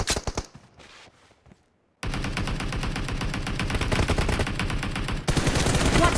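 Sustained M416 rifle spray in BGMI, a few early shots, a brief pause, then dense rapid automatic bursts that run loud and continuous to the end.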